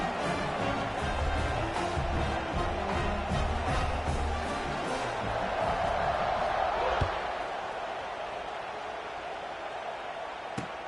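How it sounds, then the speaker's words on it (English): A stadium crowd in the College Football 26 video game, Colorado at Florida State, keeps up a steady, dense roar throughout. The noise eases slightly toward the end and is broken by a few faint thumps. "this crowd is buzzing after that last score"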